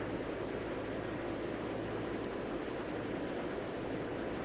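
A heavy airliner takes off in the Tower 3D Pro video game, a steady distant jet engine roar with low rumble, quiet and unbroken, no voices.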